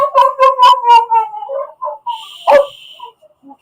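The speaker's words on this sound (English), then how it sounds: "I don't know why my dog is barking." A pet dog named Poppy gives a quick run of high, yelping barks close by, followed by a sharp burst and a few fainter whimpers.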